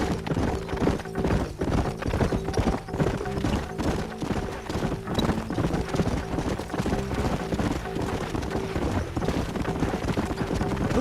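Horse hooves clip-clopping in the video game Red Dead Redemption, several horses trotting in a steady, overlapping rhythm, close and prominent over a low ambient bed, with occasional faint whinnies.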